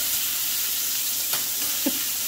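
Ginger sautéing in a hot pan gives a steady, close sizzle with a faint hiss and a couple of soft stirring taps, with no talk.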